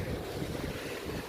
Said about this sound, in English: that's just waves.